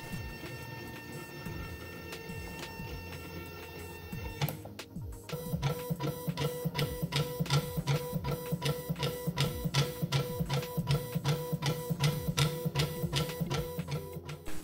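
An automatic coil winding machine driven by a stepper motor runs with a steady hum, then settles into a rapid, even rhythm of ticking pulses close up, fairly quiet and without talk.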